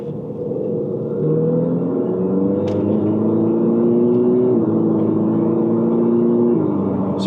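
A 2016 Ferrari 488 GTB pulls away hard in second gear, its engine note climbing steadily in pitch with a brief shift-like dip before rising again, loud and close throughout with a constant road rumble beneath.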